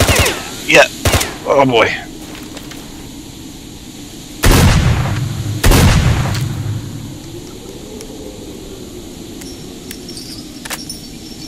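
Enemies in STALKER fire guns in an underground room: several sharp shots, then two loud booming blasts a second apart that ring out and fade, while a person speaks briefly.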